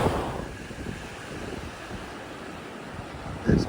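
A south wind blows across a beach near Cape Blanco, buffeting the microphone with a steady low rumble and blending with the wash of surf, with a louder gust at the end.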